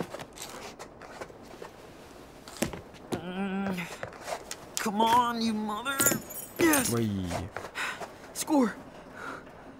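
Keys jangle in Life Is Strange 2 amid game sounds, brief metallic clinks among voiced speech and other onscreen audio at moderate level.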